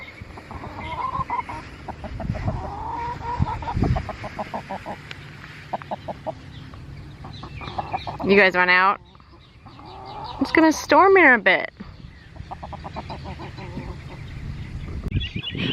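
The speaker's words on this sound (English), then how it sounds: "Hey chickens!" A backyard flock of chickens clucks and murmurs close by, with a couple of louder squawking bursts, while a person talks over them outdoors.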